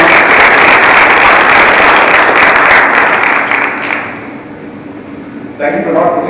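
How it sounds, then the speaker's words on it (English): An audience bursts into loud, dense applause to welcome a speaker on stage, sustained for several seconds and then fading away, before a brief burst of sound returns near the end. "please welcome Binod Shankar with a huge round of applause"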